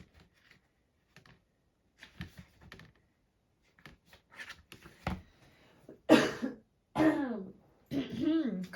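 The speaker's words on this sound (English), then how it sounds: "Clear my throat" A person clears their throat several times, starting with quiet scattered rasps and building to loud, close throaty hacks and coughs toward the end, alone without speech.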